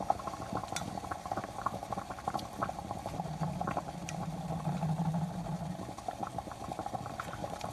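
A spoon scrapes and clinks against a pot while melting oils and beeswax are stirred. Light ticks and taps repeat irregularly over a low, steady bubbling hum, close and fairly quiet, with no voices.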